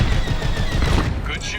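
Dense laser cannon fire from enemy starfighters in a Star Wars Squadrons space battle, a loud, unbroken crackling barrage with whining engine tones near the end.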